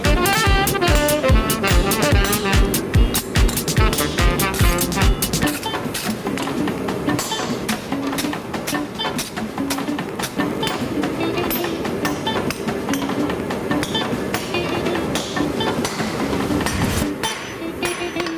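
A blacksmith hammers a punch through hot steel, a rapid run of loud ringing metallic strikes, close and sharp, that gives way to a steadier clattering working noise.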